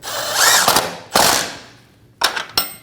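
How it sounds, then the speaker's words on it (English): A ratchet wrench snugs down the rear control arm bolt on a 2012-2022 Volkswagen Passat in three loud, close bursts of rapid clicking, with short pauses between strokes. "Using a wrench to hold the nut on top, we're going to snug down our rear control arm bolt"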